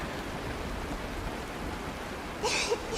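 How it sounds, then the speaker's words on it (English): Rain in the video game Honkai: Star Rail, a steady, soft hiss of falling rain throughout, with a couple of brief brighter splashes or drips near the end. "It is raining! It's true!"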